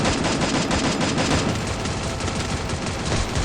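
Gunfire rattles loud and dense in the battle-royale shooter Free Fire, rapid overlapping shots with no break, like an automatic weapon firing in a close firefight, over about three and a half seconds without talk.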